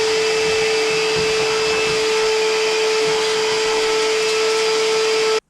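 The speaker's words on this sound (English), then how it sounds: "I probably have to use the vacuum cleaner first and clean this out a little bit here." A vacuum cleaner running steadily and loud close by, a constant whine with a strong fixed tone, sucking debris while cleaning out a battery room, cutting off abruptly at the end.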